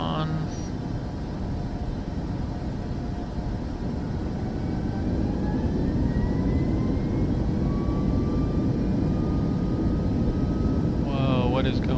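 Aircraft engine in Microsoft Flight Simulator 2024, a steady broadband roar with faint tonal whines drifting upward, continuous and even throughout, with no talk over it.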